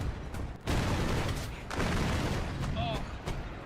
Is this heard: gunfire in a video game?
yes